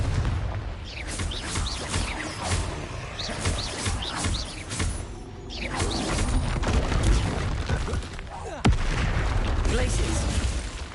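Confringo blasting spells go off in Hogwarts Legacy as repeated bursts and crackling booms over a dense layer of game sound, with a sharp loud blast near the end and shouted incantations mixed in.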